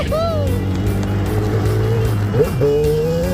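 A 1987 Yamaha Banshee ATV, revived after sitting more than ten years, revs loud and near, its engine pitch climbing and dipping through gear changes.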